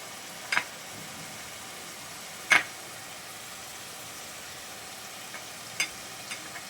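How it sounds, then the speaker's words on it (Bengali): Ground spice paste sizzling softly in a pan for chicken vindaloo, a low steady hiss with a few sharp scrapes as it is stirred, faint and fairly distant. "এবারে আমি বেটে রাখা মশলাটা দিয়ে দিচ্ছি আমি একটু নেড়ে নিচ্ছি"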